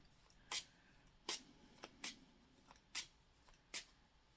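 Tarot cards being shuffled by hand, six quiet crisp riffling bursts spaced roughly evenly apart, close and soft, with no talking.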